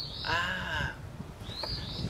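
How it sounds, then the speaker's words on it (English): A finch calls outdoors in spring, a few short bright whistled phrases with rising and falling notes, at moderate distance against a low background rumble. "I think this is a finch."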